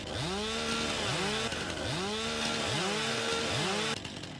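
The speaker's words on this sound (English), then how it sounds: "I also have a chainsaw, just saying." A chainsaw in the Farming Simulator video game revs and idles in repeated rising and falling cycles, loud, steady and close, with no one talking until the engine cuts near the end.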